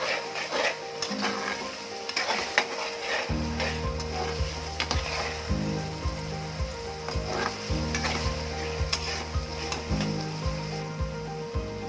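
Onions, tomatoes and green chillies fry in a pan for matar mushroom, a loud continuous sizzle close by with occasional sharper crackles and stirring knocks throughout.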